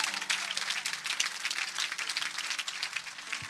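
Church congregation applauding together in a dense, steady burst of many hands clapping at once, fairly loud and sustained throughout with no voices rising above it.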